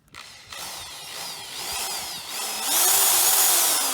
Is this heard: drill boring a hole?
yes